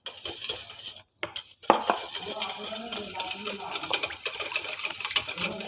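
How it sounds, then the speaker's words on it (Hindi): A spoon stirring 200 grams of Milk Pack cream into a chilled pistachio ice cream mixture in a bowl, with repeated scraping and clinking against the container, close and steady, a voice speaking over it. "इसके अंदर मिल्क पैक की क्रीम शामिल करेंगे 200 ग्राम। अच्छा सा इसको मिक्स कर लेंगे।"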